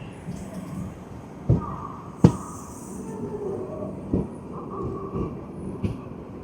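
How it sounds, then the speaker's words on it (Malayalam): A Mangalore Express passenger train runs near Nileshwaram in Kerala, giving a steady low rumble punctuated by periodic rail clacks and thumps. "നമ്മളെ ട്രെയിൻ ഇത് അവിടെ നിന്ന് എടുത്തു കേട്ടോ."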